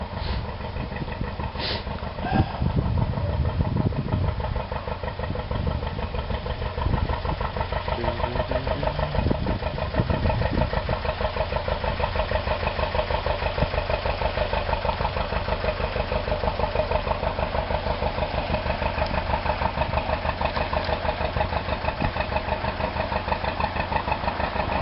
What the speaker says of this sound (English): Little boat chugging through for you.